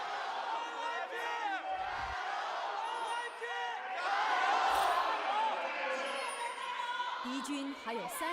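Large esports arena crowd at an LPL League of Legends playoff match cheering and whooping steadily, a loud, sustained roar of many voices with a surge around the middle.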